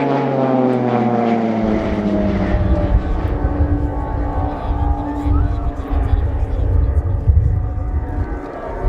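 A Swiss Air Force Pilatus PC-7 propeller aircraft in a display team flypast at RIAT roars loudly overhead, its engine pitch sliding downward as it passes, while an announcer talks throughout.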